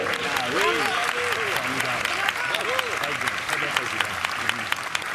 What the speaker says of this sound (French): je vous demande d'applaudir chaleureusement notre président et fondateur, Monsieur Lisandro Mascaro